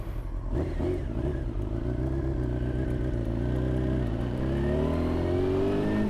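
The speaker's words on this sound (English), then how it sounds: "it shifts through all the gears really nice" A 1993 Honda CBR900RR motorcycle pulls away and climbs through its gears, the engine note rising, dropping briefly at a shift and climbing again, loud and close with wind rush and no talk.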